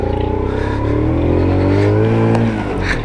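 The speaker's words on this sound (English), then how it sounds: "We're working with a 49cc fuel injected single cylinder engine, normal clutch, and a 4-speed gearbox" A Daytona Hobby 50 moped's 49cc fuel-injected single-cylinder engine runs loud and close, its buzzing note climbing steadily as it revs up through the gears, with no talk over it.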